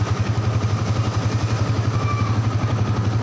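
A Yamaha Vixion motorcycle engine runs without its battery fitted, a steady close idle with a fast, even pulsing throb and faint mechanical clatter, no voices.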